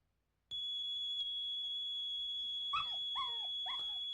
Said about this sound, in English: I hear the barking